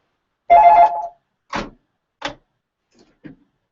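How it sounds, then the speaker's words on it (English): A telephone rings during a Houston radio call-in show: one longer electronic ring followed by a few short, fading chirps with silence between them, clear and close. "see if this phone call is for us"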